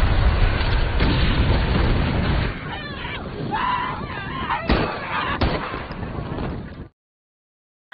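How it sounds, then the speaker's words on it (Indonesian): A bomb detonates in a film scene, loud booming blasts and crashing debris over a dense roar, a few sharp bursts mid-way, then abrupt silence at the end. "sudah memasang bom di sana dan meledakannya yang membuat sebagian dari mereka"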